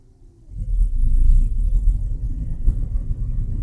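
John Deere S770 combine with its separator and cleaning fan being engaged: a low rumble swells up after a quiet start and settles into a steady, heavy mechanical drone with slight surges.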